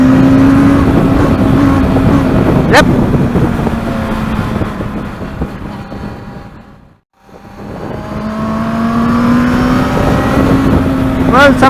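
A Benelli TNT 600 GT motorcycle engine roars loudly as it accelerates, its pitch climbing around 8,000 RPM, briefly dropping away during a gear change before revving up again; a voice speaks briefly.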